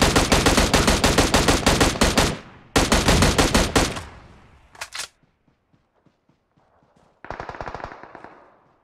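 Machine gun fire in PUBG Mobile: two long, loud, rapid bursts, then a few scattered shots, a quiet stretch, and one more shorter, fainter burst near the end.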